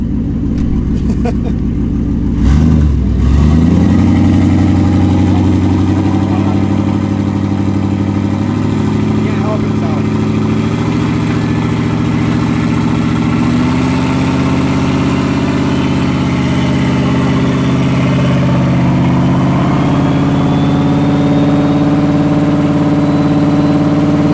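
A turbocharged Ford Crown Victoria starts, then settles into a loud, steady, rumbling idle as it warms up, with someone talking close by.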